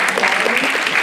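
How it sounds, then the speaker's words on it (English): An audience applauds at a short-film awards ceremony honouring school children. The clapping is a brief, loud, dense patter with no pause. "A huge round of applause,"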